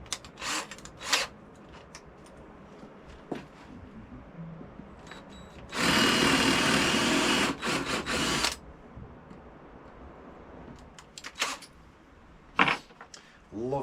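A power drill bores pilot holes in pine wood in one loud, steady whir lasting about three seconds, with quieter clicks and handling knocks before and after.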